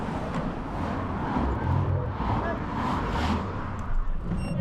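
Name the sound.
street traffic at a crossing during a bike ride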